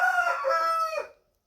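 A rooster crows once, loud and close, a single drawn-out call of just over a second that cuts off into silence, with no talking.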